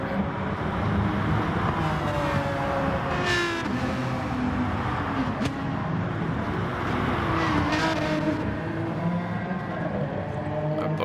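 Race cars at a festival of speed event roar around the track in a close battle, a dense continuous engine drone with rising and falling pitch as they accelerate, loud and sustained without a break.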